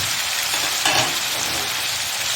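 Tomatoes and spices fry loudly for mutton karahi, a dense, steady, close hiss with a brief stir bump near the middle and no voices.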